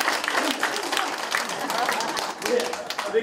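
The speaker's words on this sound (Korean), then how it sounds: "박수 주시기 바랍니다." Audience applause at a Seoul city council forum on an ordinance supporting atomic bomb survivors, a dense steady patter of many hands clapping with crowd murmur and voices mixed in.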